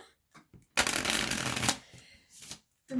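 Tarot cards are shuffled in a steady, close riffle-and-slide flurry lasting over a second, with brief soft card handling sounds before and after.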